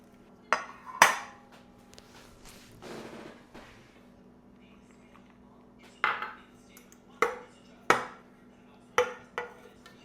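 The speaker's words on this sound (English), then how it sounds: "I'm just going to coat my pans with butter, then a light dusting of flour over the top of that." Metal cake pans are coated with butter and a light dusting of flour, giving a series of sharp clinks and taps at uneven intervals with quiet pauses between.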